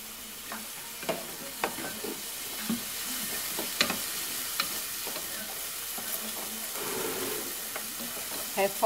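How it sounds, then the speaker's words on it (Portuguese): Garlic and onion sauté in a pan for ground beef, a soft steady sizzle with scattered light clicks and scrapes from stirring, fairly quiet and close. "Refogo bem o alho e a cebola. Deixo refogar um pouquinho."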